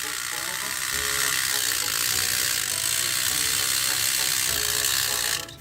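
Percy the Small Engine toy train's battery-powered motor whirs steadily and close, a continuous buzzing, gear-rattling drone that sounds weak and strained, cutting off abruptly at the end.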